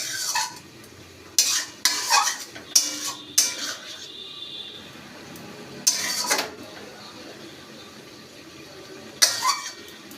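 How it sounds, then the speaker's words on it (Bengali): A spoon scrapes and stirs mourala fish in a karahi after a little water goes in, giving several sharp metallic clinks and scrapes against the pan over a soft background simmer and sizzle. "আর এর মধ্যে সামান্য একটু জল দিয়ে দিচ্ছি"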